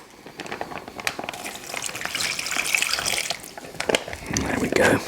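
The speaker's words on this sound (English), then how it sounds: "we'll pour this in the bag with our steak" Bourbon marinade poured from a bowl into a bag holding steak, a close trickling, splashing pour that swells toward the end, mixed with bag rustling and light kitchen noise.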